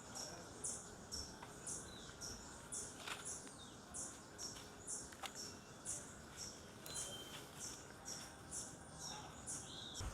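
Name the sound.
small fast birds, likely hummingbirds, zipping past in a cloud forest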